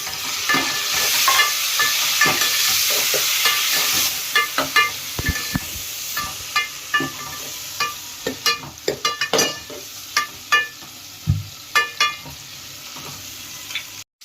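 Tomatoes sizzle and fry in a pan for a bottle gourd dal, with a steady hiss and repeated sharp scraping clacks of a spoon stirring, growing more frequent toward the end.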